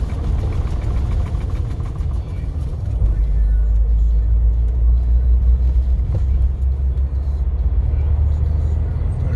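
A 2018 Jeep Wrangler Unlimited Rubicon rolls over manhole covers with steering shake, a steady low engine and road rumble from inside the cab, thumping over bumps, with a voice talking in between.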